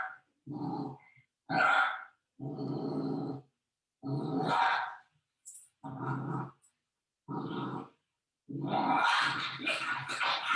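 A puppy growls in short bursts separated by silences, with a few sharp snapping sounds, close and fairly loud.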